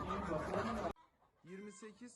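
Chickens cluck in short, uneven bursts, first in a dense noisy flurry, then after a brief quiet gap, a few clearer clucks up close; a flock of 800 free-range Lohmann hens in a coop.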